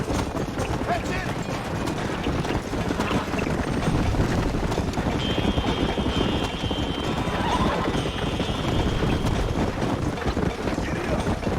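A horse gallops in Red Dead Redemption on Xbox 360, its rapid hoofbeats driving continuously under dense, loud game ambience, with a brief whinny-like tone in the middle.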